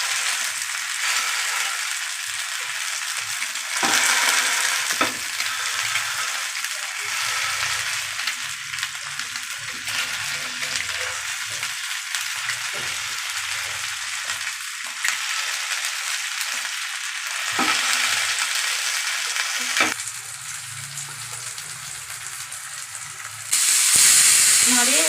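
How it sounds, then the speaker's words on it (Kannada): Fish sizzles and fries steadily in a pan with oil, a continuous crackling hiss that swells louder in bursts as pieces are added and pressed, with no talking. "ನಾನು 3 ಒಂದೇ ಸರಿ ಫ್ರೈ ಮಾಡ್ತೀನಿ."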